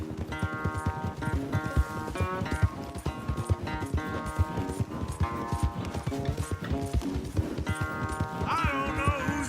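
Rapid galloping hoofbeats drum steadily over a bright music score, loud and close, continuing for several seconds, a horse race in the video game Red Dead Redemption 2.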